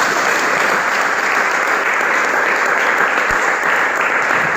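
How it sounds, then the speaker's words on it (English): An audience applauds after a lecture by a professor, with loud, sustained clapping that holds steady from start to finish and has no talk over it. "Please keep clapping, keep clapping, keep clapping, keep clapping."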